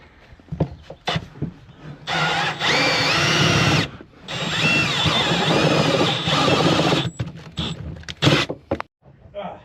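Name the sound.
cone drill bit drilling through Ford Transit van metal floor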